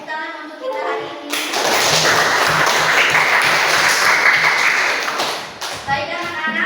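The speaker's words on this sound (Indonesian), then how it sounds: "tepuk tangan untuk kita hari ini" Schoolchildren in a classroom burst into clapping at the end of a lesson, a close, lively patter of small hands lasting several seconds between brief bits of a teacher's and kids' talk before and after.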